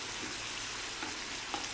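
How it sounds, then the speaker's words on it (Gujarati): Chopped tomatoes fry in a pan for paneer bhurji, giving a steady, moderate sizzle with soft crackles and a faint stirring scrape, close by and without talk. "હવે ટમેટાં નાખી દીધા છે આપણે, અને એને પણ ખૂબ સરસ રીતના કૂક થવા દઈશું"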